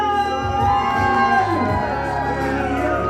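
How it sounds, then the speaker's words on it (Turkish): Wedding guests cheer and whoop in a brief, lively burst, shouts and voices rising together from the crowd. "Alkışlar!"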